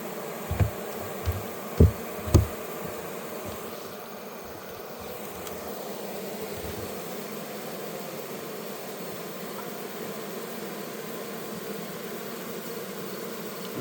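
Honey bees hum in a continuous low, even drone around an open Layens horizontal hive in the evening, with a few soft knocks near the start.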